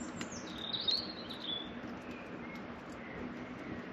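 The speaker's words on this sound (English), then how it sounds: "the only things I hear are birds chirping and the wind" Faint, high chirps from birds outdoors in the Danish countryside come in a few brief bursts early on, over a quiet, steady background hiss of wind and insects.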